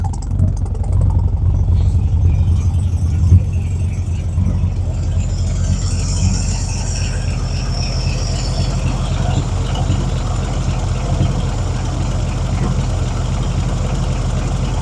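A freshly tuned 1952 Chevy idles close and loud, its steady low rumble running throughout while a person talks over it near the start.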